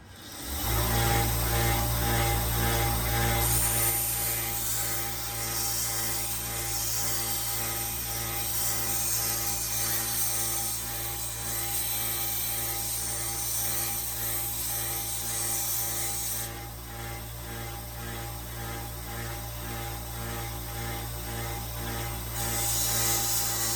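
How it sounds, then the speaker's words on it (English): A power sander runs steadily and loudly on a metal hammer with a high whining buzz, its pitch shifting slightly partway through, with no talking. "So you can see the sander."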